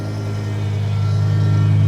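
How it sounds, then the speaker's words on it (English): On a BMW E60 M5, a noisy power steering pump gives a loud, steady droning whine with strong low harmonics under the idling engine, close and constant throughout. "Power steering's making a load of noise"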